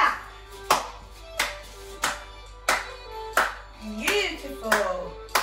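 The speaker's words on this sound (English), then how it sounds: "clap, clap, clap. And skip." Evenly spaced hand claps, about eight in a row at a steady beat, ringing in a roomy space with a voice briefly joining near the end.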